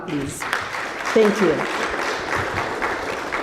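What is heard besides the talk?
audience applause at a conference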